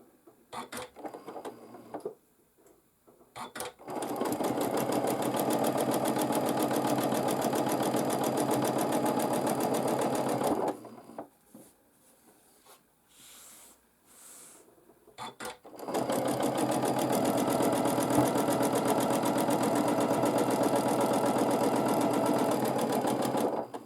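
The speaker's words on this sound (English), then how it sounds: "So I will just quilt some wavy lines." A sewing machine free-motion quilts wavy lines, a fast, steady stitching whir in two long close bursts separated by quiet pauses with faint handling, loud and alone without speech.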